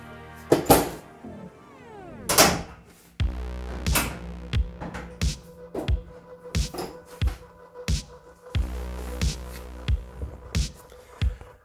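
A Toyota Corolla KE55 bonnet is lowered and shut, giving a few heavy metallic thunks and clunks followed by a run of lighter knocking and tapping of the panel against the new battery bracket, close and fairly loud, with no speech.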